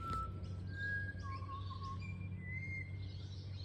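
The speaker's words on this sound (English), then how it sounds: "I can never talk over a butcher bird." A butcherbird sings outdoors, a series of clear, fluting whistled phrases at moderate distance over a low steady background hum, with no talking.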